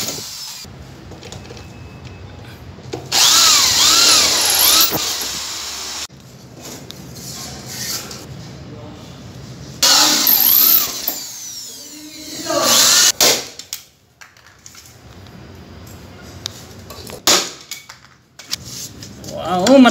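A power drill runs in several loud bursts while driving rivets into a hardiplex board up panel during a split-type aircon installation, with quieter handling noises and gaps between the bursts.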